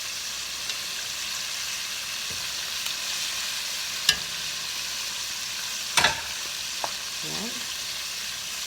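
Salt and pepper prawns deep frying in a batch of hot oil give a steady, close hiss throughout, with a few sharp clinks and scrapes of a utensil. A brief spoken word cuts in near the start.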